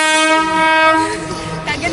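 A diesel train at the Ambarawa railway museum sounds a loud, sustained horn up close, then fades into rumbling rail noise.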